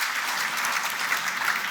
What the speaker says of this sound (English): It does actually deserve a round of applause.